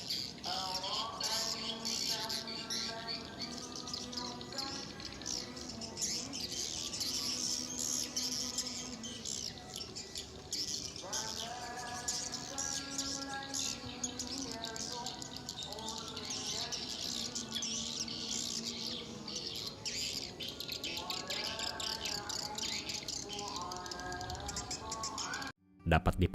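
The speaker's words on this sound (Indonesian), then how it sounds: "suara seperti itu adalah suara yang dapat mengundang walet untuk kawin" Repeated chirping, twittering bird calls in bursts, steady and fairly loud over a hissy background.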